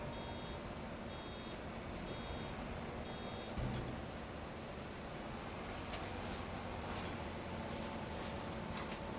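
A farm vehicle in a farming video game sounds its reversing alarm, a thin, evenly spaced series of high beeps over a low engine rumble, fairly faint with a single thump partway through.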